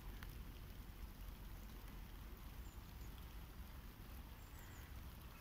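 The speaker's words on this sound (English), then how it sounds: "It started to rain." Steady, faint patter of rain falling, a soft continuous hiss with scattered drops and no voices.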